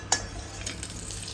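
Butter and oil heat in a pan as the base for pav bhaji, a single sharp utensil clink followed by a steady, soft, close sizzle for about a second.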